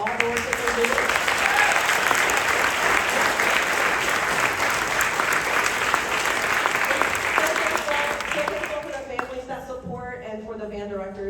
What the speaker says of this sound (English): would you give your band directors a round of applause for all the work that they're doing?